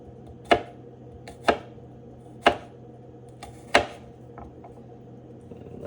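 A big knife chops garlic on a cutting board in four crisp, separate knocks about a second apart, close and clear over a quiet room hum, followed by a few faint taps.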